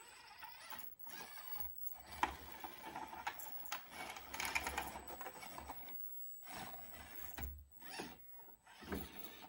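An Axial SCX-24 Gladiator RC crawler lines up its tires on an obstacle, its small gears and motor giving faint, intermittent whirring and ratcheting bursts with brief pauses between them.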